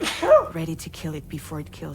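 A single short sneeze opens a Death Stranding 2 cutscene, close and clear, quickly followed by a character speaking.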